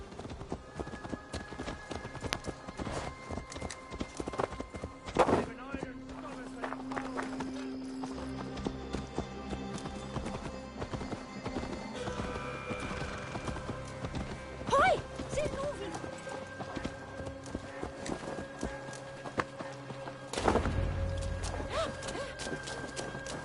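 Horse hooves clip-clop steadily at a walking pace over a continuous Assassin's Creed Valhalla game soundscape, with a few louder thumps and rustles along the way.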